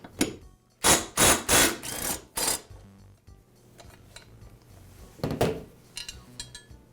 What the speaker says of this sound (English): The blade is secured with one bolt, and I'll go ahead and remove it.